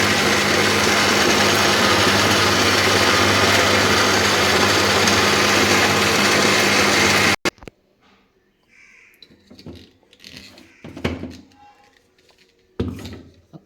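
A mixer grinder blends mint and tomato chutney with a loud, steady whirring roar for about seven seconds, then cuts off abruptly, leaving quiet, scattered kitchen clatter and small knocks.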